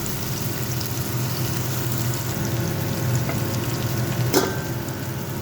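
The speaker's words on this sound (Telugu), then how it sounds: "ఉల్లిపాయలు, పచ్చిమిరకాయలు వేస్తున్నాను. పచ్చిపిచ్చిగా దంచుకున్న అల్లం, ఎల్లిపాయ వేస్తున్నాను." Onions, green chillies and crushed ginger and garlic, added with curry leaves, sizzle and fry in a pan of hot oil for a chicken curry. The sizzle is steady and close throughout, with a short utensil clatter near the end.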